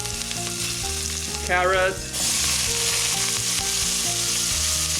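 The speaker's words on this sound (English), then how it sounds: "Stir fry for 1 minute." Ginger, garlic and carrot stir-fried in a pot, a steady loud sizzle with scraping stirs throughout, a brief burst of louder crackling near the middle, and a short spoken word over the frying.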